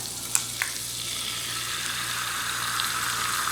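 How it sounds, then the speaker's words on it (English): An egg fries in butter in a pan with a steady, close sizzle. A couple of small sharp clicks sound near the start, and there is no talk. "Let's get that fried egg cooking"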